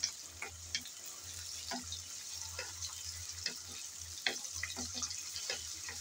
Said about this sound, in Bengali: চিংড়ি মাছগুলো এখন নেড়ে চেড়ে তেলের মধ্যে বেজে নেব হালকা করে।